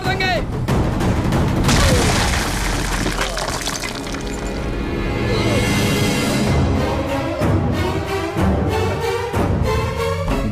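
A gunshot bursts out in a Hindi drama scene as a loud, booming crack, then a dense, roaring wash of dramatic music and effects that stays heavy for several seconds. The clip ends with more rhythmic hits.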